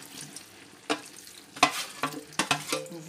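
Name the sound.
ingredients tipped into cooking pot for tripe in white sauce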